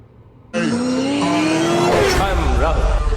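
A Mahindra XUV500's engine, parked unused for a long time, suddenly roars and revs up, rising in pitch, loud and close, with a voice talking over it.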